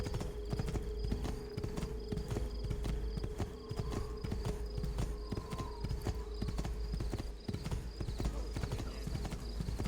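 A horse's hooves clip-clop in a quick, steady trot in the video game Assassin's Creed II, crisp and close, with a low ambient hum underneath.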